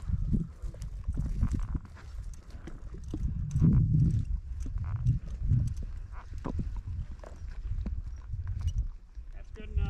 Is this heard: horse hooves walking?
yes